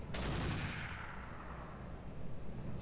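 Gunfire in the mech combat game Roguetech, a loud sustained barrage that opens with a sharp burst and then settles into a dense, rumbling wash of shots and booms.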